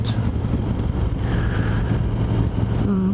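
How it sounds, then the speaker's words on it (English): Steady wind buffets the microphone, a low continuous rumble with gusty swells and no voices. "God, it's windy today."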